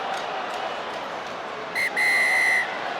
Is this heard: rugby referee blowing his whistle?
yes